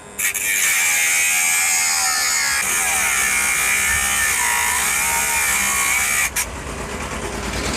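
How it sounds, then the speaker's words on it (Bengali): A homemade 12V angle grinder built from a 775 DC motor cuts through an iron screw, a loud continuous high-pitched whine and grinding screech lasting about six seconds, ending abruptly before the motor spins on more quietly. "এটা কিন্তু একটি স্ক্রু আমি কেটে দেখাচ্ছি"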